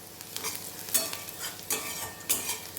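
Soybean chunks fry in plenty of white vegetable oil in a pan, sizzling up close as they are stirred in a few scraping strokes.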